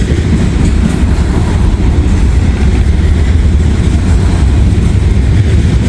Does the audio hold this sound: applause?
no